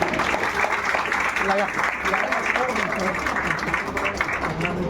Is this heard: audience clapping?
yes